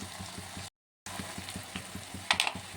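Curry leaves, a bay leaf, garam masala and turmeric fry in hot oil, giving a close, steady crackling sizzle with small pops. A brief dead-silent gap breaks it near the start.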